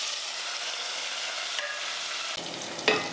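Whole small onions sautéing in oil in a pan, a steady soft sizzle throughout with a couple of brief stirring knocks near the end, close and moderately quiet.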